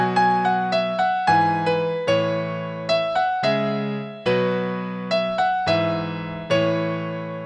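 On a keyboard instrument, two-note chords using only each chord's bottom and top notes are struck in a steady rhythm, a dozen or so clear, sustained attacks that ring and decay, played alone.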